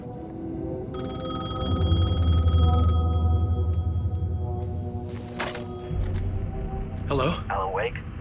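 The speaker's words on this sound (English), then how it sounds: "payphone was ringing." A payphone in Alan Wake 2 rings with a bright electronic bell tone for about two seconds, then stops, followed by low rumbling ambience, a clunk and a few short game sound effects.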